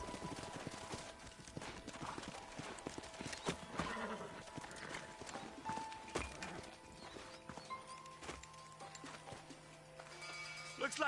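Horse hooves clip-clop in a steady trot amid busy outdoor ambience in the video game Red Dead Redemption, with an occasional whinny and faint voices in the background.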